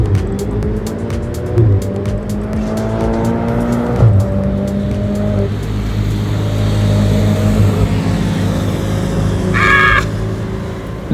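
A Lotus Elise accelerates hard up the Sustenpass mountain road, engine loud and near as it climbs through the revs with a gear change, a brief tyre squeal breaking through near the end.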